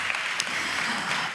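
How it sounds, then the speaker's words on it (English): Audience applause at a Miss Tomball 2026 pageant rings out as a dense, even wash of clapping across a crowd, loud and continuous for a short stretch with no talk over it. "Give them a round of applause, you guys."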